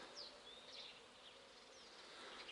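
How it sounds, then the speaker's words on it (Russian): Bees circle around plum trees in a village yard, their faint buzzing rising and fading as individual insects drift past against a quiet outdoor hiss. "Пчелки кружатся."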